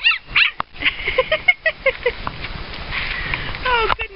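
A five-week-old puppy whimpers and yips in a run of short, high, close-up cries, with a voice briefly talking over part of it.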